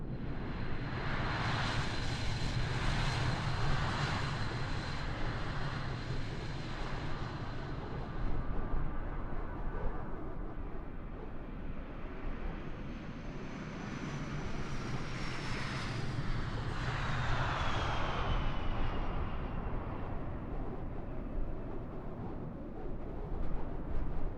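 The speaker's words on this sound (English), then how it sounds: "Just Flight makes some very good engine sounds." Aircraft engine drone from a flight simulator on Xbox, a steady loud propeller hum with tonal whine that rises and falls in pitch as power changes, continuous and without talk.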